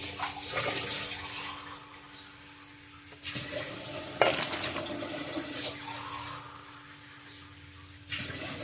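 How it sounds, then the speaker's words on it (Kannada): Water is poured into a cooking pot of potato and drumstick sambar and stirred, giving soft sloshing and splashing with a few sharper swirls and clinks, fairly quiet and close, with no talk. "ನೀರು ಹಾಕುವ."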